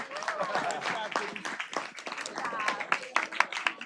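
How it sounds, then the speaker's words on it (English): An audience claps in a dense burst of applause that holds steady for a few seconds, with a voice speaking over the clapping. "let's give them all a big round of applause."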